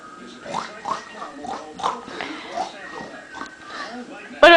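A person's voice imitates a pig, making a run of short, rhythmic oinking grunts close to the microphone, ending in a brief louder burst.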